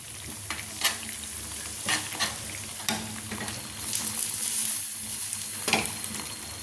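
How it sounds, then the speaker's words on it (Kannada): A spoon stirs green chilli chutney ingredients in a pan, giving soft steady scraping with a low sizzle underneath and a few sharper clinks, close and with no talking. "ಎಲ್ಲವನ್ನು ಹಾಕಿ ಚೆನ್ನಾಗಿ ಮಿಕ್ಸ್ ಮಾಡಬೇಕು"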